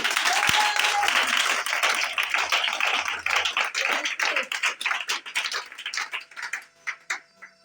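A church congregation claps together in a loud, close burst of applause that breaks into quicker, uneven rhythmic clapping, with a brief voice early on.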